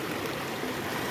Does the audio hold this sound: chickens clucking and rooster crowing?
no